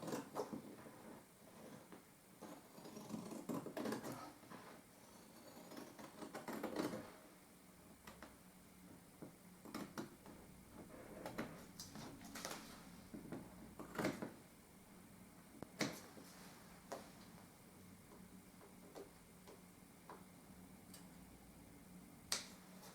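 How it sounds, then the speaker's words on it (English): Scissors snipping through lining paper being hung on a chimney breast, a series of quiet, irregular sharp cuts and rustles spread over the span, faint and close in a quiet room. "that one I'm going to just do with my scissors."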